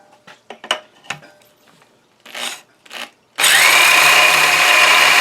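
After a few light taps and clicks, a power grinder bites into the iron sleeve of a Mercury 225 outboard cylinder, a loud, continuous close-up grinding whine that holds steady to the end.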